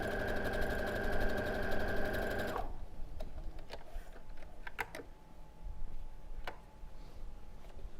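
A sewing machine stitches a quilt seam in a rapid, steady mechanical whir for a few seconds, then stops, leaving quiet handling clicks and taps of fabric and tools.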